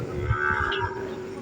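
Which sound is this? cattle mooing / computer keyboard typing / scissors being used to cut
cattle mooing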